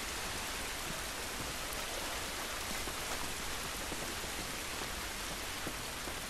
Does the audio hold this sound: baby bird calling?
no